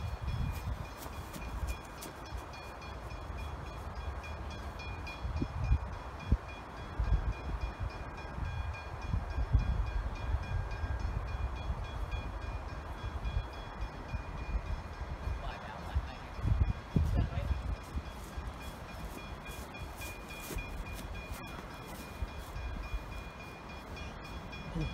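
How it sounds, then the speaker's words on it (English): A Melbourne Belgrave-line passenger train rolls past trackside at Bedford Road, a steady rumble with clattering, hissing and brief horn-like tones throughout, voices faintly present. "Another Belgrave service at Bedford Road."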